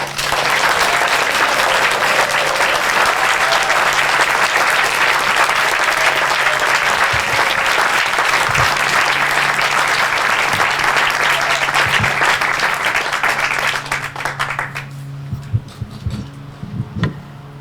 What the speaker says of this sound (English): maybe we can give all the graduates a round of applause